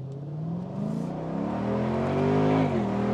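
Mercedes-Benz SLK55 AMG accelerating with the roof down, its exhaust droning steadily and climbing in pitch through a gear, loud and continuous from inside the car.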